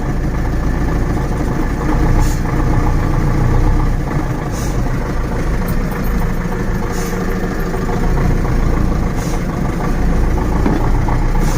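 A cold ZIL-130 truck engine runs steadily as the truck is eased off the handbrake into first gear and pulls away, a loud, continuous low rumble with faint periodic ticks and no talk.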